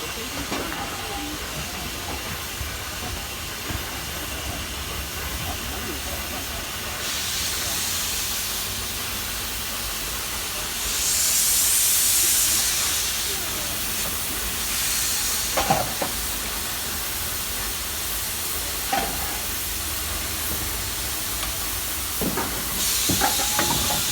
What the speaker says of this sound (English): you can see Sir Berkeley here releasing a lot of steam